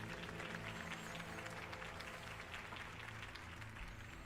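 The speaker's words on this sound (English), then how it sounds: "nly Mr. Wayne, my campaign's largest backer, could have heard that applause" Steady applause from a crowd in the video game Batman: The Telltale Series, continuous clapping over a background hum of music, sustained throughout at moderate loudness.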